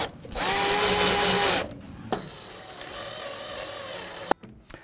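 Power drill driving screws into brackets for a built-in artificial chimney breast, one loud sustained whirring burst of about a second, followed by quieter workshop handling noise and a sharp knock near the end.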